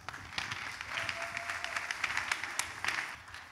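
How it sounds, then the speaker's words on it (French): A church congregation applauds after a prayer of thanks for a safe childbirth, moderately loud, steady clapping with a few sharper claps, and no one talking over it. "Applaudissons le Seigneur."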